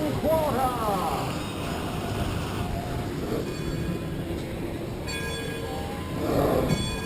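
Steam engine of the Mark Twain paddle-wheel riverboat at Disneyland chugs as a steady low rumble, with a voice calling commands over it and a whistle-like tone near the end.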